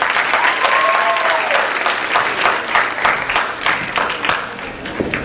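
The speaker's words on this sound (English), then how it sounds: "Another round of applause for our 8th graders" A school audience applauds the 8th grade winners of a district middle school recitation and drama competition, a sustained, fairly loud round of many hands clapping in a hall, a faint voice briefly audible early on.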